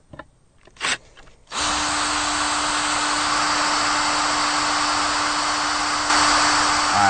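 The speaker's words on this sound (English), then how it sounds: "So we're going to go ahead and get this hole drilled," A power drill bores a hole in a boat deck, whining in a steady, loud, continuous drone for several seconds after a few brief knocks and handling sounds at the start.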